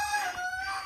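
A rooster crowing inside a backyard chicken coop, one sustained, fairly loud call heard close by with no talking over it.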